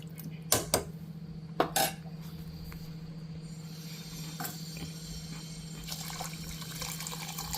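Water is poured into tamarind broth with sweet potato in a cooking pot and stirred, with a couple of sharp clinks of a utensil against the pot early on over a steady low hum.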